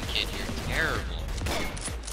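Combat Arms video game gunfire: a quick burst of several sharp shots with bright metallic ringing, layered over game sounds and a player talking.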